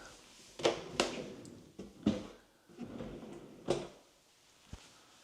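Large built-in drawers under a bench in a modern farmhouse hall slide and thump shut several times: separate wooden knocks and rumbling slides, close and fairly soft, spaced irregularly.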